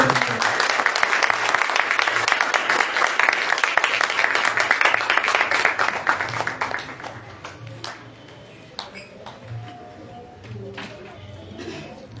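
A congregation at a Sunday church service in Islamabad applauds a pastor, strong sustained clapping for about six seconds that then fades into scattered claps and quiet room sound, with faint bird cooing nearby.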